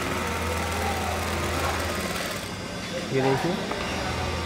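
Juki sewing machine running with a steady mechanical whir and faint rhythmic knocking, a person talking over it near the end.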